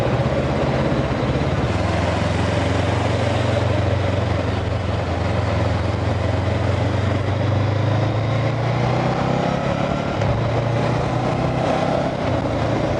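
A Honda 400X motorcycle pulling away, a steady low engine drone with a rising pitch as it accelerates, close and continuous under heavy wind rush.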